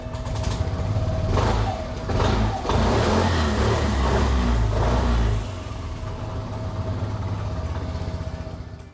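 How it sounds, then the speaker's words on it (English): A Piaggio Medley scooter engine cranks and catches, revs up in a few loud bursts, then settles into a steady buzzing idle nearby. "you can turn on the ignition key and start the engine normally"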